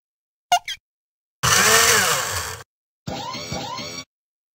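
A cartoon kitchen blender whirring in the Ruff Ruffman smoothie game, two loud buzzing bursts about a second each after a short chirpy blip, close and clean with no talk.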